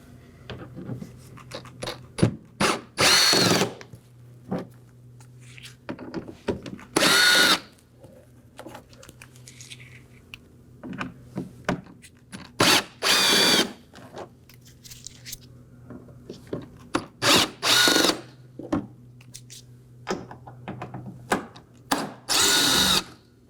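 A power drill backs out T15 Torx screws from the inner wheel well of a 2018-2024 Chevrolet, in a string of short, loud whirring bursts separated by quiet pauses and light clicks of handling.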